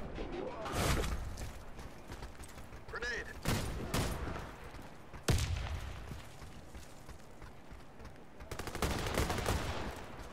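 Shotgun blasts and bursts of gunfire in a team deathmatch video game, several sharp loud shots separated by short gaps, with a player's voice in between.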